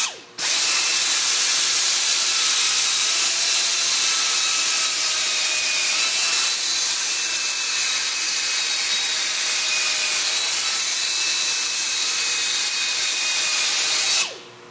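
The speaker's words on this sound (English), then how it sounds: "I gotta grind it" Grinding a small radius on a metal part for a Wadkin jointer, a steady loud hiss of the grinder running continuously for about fourteen seconds, starting and stopping abruptly, with no talk.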